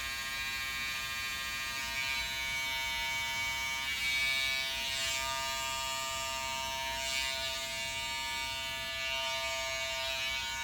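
Electric hair clippers buzz steadily and close up while trimming a man's hair around the ears and edges, a constant hum with slight swells as the blade moves.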